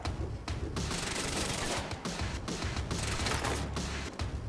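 Suppressive gunfire in Quantum Break: loud, dense bursts of rapid automatic shots in quick succession, with brief gaps between volleys and a sustained, close, rattling barrage throughout.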